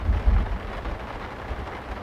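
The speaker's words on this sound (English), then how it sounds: "There you hear the clap of thunder." A deep, rumbling clap of thunder in the video game Farming Simulator 19 rolls in low and heavy, then fades into a softer, steady rumble with no voices.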